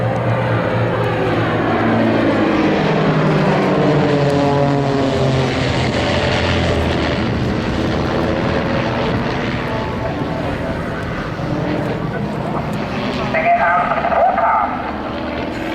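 A propeller display aircraft flies a wing-over above the crowd area at an air show by the sea, its engine droning loudly and steadily for the whole stretch, swelling and shifting as it banks.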